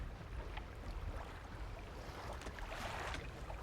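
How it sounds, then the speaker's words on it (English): In the video game Dredge, a fishing boat's engine chugs with a steady low rumble under a wash of water and wind noise. The sound is faint and continuous, with no talking. "Please try to keep your engine noise to a minimum."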